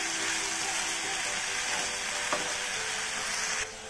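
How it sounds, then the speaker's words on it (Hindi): Tomatoes being stirred and fried in a pan for Gujarati masala khichdi, a steady close sizzle with soft scraping of the spoon and a brief clink near the end. "अब हम लास्ट में डाल देंगे टमाटर, इसको भी हम अच्छी तरह से मिक्स करके भून लेंगे।"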